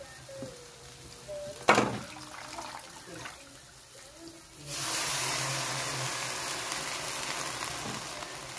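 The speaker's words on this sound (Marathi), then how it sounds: "आता आपण आहे ना भाजी स्वच्छ धुवून टाकू" Water runs steadily as greens are rinsed clean for a village-style vegetable dish, a broad, continuous splashing hiss that starts after a sharp knock and quieter handling sounds.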